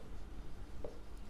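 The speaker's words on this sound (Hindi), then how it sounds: "रुकिए एक मिनट मैं थोड़ा अच्छे से लिखती हूँ" Pen writing by hand on paper, a faint soft scratching of short strokes close by in a quiet room, no voices.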